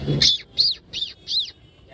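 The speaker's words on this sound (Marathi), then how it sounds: "हे बघा कबूतर मित्रांनो, कबूतर" Pigeons in a flock at the Siddhivinayak temple courtyard, heard as four short, bright chirping calls repeated at an even pace, with a soft low rustle at the start suggesting wings.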